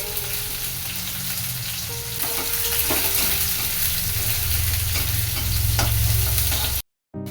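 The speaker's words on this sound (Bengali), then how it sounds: "আর এবার পেঁয়াজটা দিয়ে দেবো একটা পেঁয়াজ ছোট্ট করে নিয়েছিলাম" Chopped onion sizzling in hot oil in a home kitchen pan, a steady loud frying hiss with occasional stirring scrapes, running continuously before cutting off abruptly near the end.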